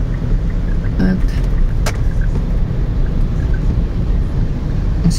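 Steady road traffic on Mindanao Avenue, a continuous low rumble of car engines and tyres with wind buffeting the microphone, a few brief passing sounds rising above the drone.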